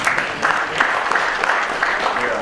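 Audience applause at an award nomination ceremony, a continuous crowd of hands clapping with slight surges, steady and moderately loud throughout the short stretch.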